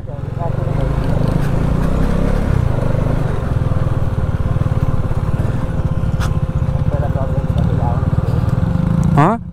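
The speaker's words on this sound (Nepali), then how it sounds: "ए मा क्या सही उडाएर हुन्छ क्या डट बाइक" Dirt bikes ridden and launched on a rough riding spot during a Holi ride, a loud, continuous engine drone with a pulsing low throb, while people talk nearby.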